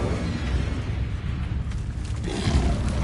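Incendio fire spell from Hogwarts Legacy, a dense roaring burst of flame that rumbles steadily and swells again near the end, loud and close with no talk.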